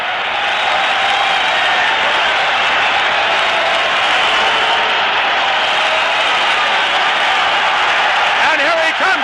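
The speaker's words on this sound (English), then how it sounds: "The crowd screaming for Howard to come out again" Huge ballpark crowd at RFK Stadium in Washington screaming and clapping for Howard's curtain call, a steady, loud, unbroken roar that fills the whole stretch.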